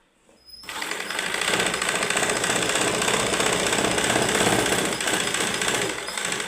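A sewing machine stitches blouse fabric, starting after a brief pause and then running as a steady, fast, close mechanical whir for several seconds.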